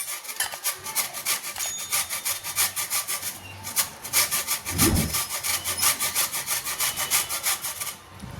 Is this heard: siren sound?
no